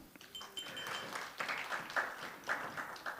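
A conference audience in a hall gives a modest round of applause, heard as scattered, fairly faint clapping that swells in a few bursts.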